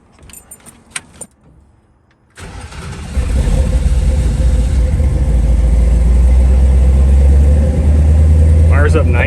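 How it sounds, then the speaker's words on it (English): Fuel-injected Ford Bronco with a 347 stroker V8, jangling keys and brief clicks, then the engine cranks and catches, settling into a loud, steady rumbling idle close by. "Let's go ahead and fire this truck up."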